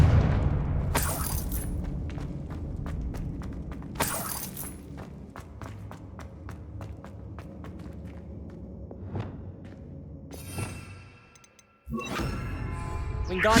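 Confringo blasting spells burst repeatedly in Hogwarts Legacy, sharp explosive impacts recurring several times over a busy bed of game sounds and footsteps, with a brief near-silent gap before a louder blast.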